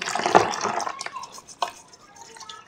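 Water splashing and dripping as crabs are washed by hand in a basin, irregular soft sloshes and drips at close range, fairly quiet with no talk.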